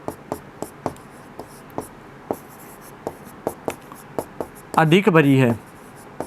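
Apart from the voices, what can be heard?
writing with a pen or marker during a maths lesson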